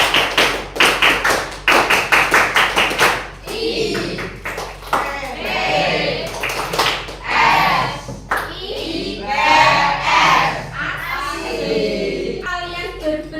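A school classroom of students claps the Tepuk IPS chant, with sharp, rapid unison claps in bursts alternating with shouted group chanting, loud and close.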